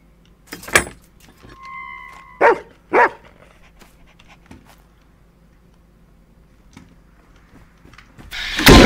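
Dog barking in the horror video game In Silence: a few short sharp barks near the start, then a long quiet stretch with faint scattered game sounds and a louder burst at the end.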